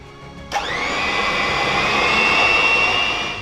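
A mixer starts up with a click and settles into a steady high whine as it kneads hot dog bun dough with room-temperature butter, loud and close with no voices.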